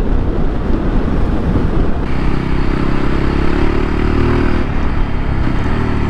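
A Voge 300 Rally motorcycle engine, fitted with a Powerflow foam air filter, idles and warms up with a steady, loud low rumble that thickens slightly partway through, with wind buffeting the microphone throughout.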